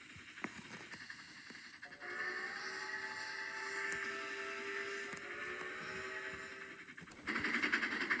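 Train passing through New Hampshire woods, heard as a faint, steady rumble with a sustained horn-like tonal chord held for several seconds before the sound swells louder near the end.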